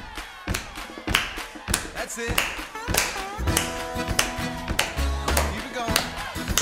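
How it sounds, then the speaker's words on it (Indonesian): Children stamp their feet and clap their hands in a group, loud percussive thumps and claps in an uneven repeated rhythm, with an adult voice talking over them and sung or hummed tones appearing partway through. "Kita mau hentakkan kaki ya. Terus tepuk tangan juga."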